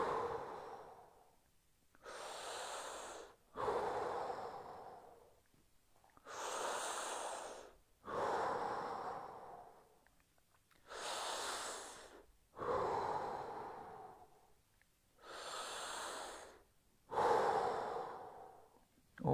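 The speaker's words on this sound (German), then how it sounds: "Und nochmal 5 Atemzüge." Slow, deep breathing during a shoulder exercise, about five long inhale-exhale cycles at an even pace, close and fairly soft, with no talking.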